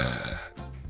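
A single short, loud, gurgling burp from a person lasts under a second, close to the microphone.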